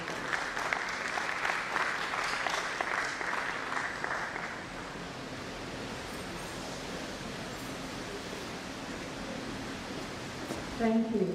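An audience at an international environmental sciences conference applauds loudly for about four seconds, then the clapping fades into a quieter hall murmur.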